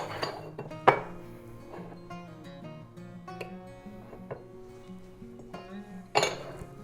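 Ceramic ramekins clink and knock against a large metal cookie sheet nearby, with a few sharp ringing strikes among softer scrapes and taps in a quiet kitchen.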